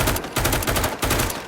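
A rifle fired from the hip in the VR game Firewall Ultra rattles off rapid automatic bursts, about four sharp clustered volleys with brief gaps, loud and close with no talking.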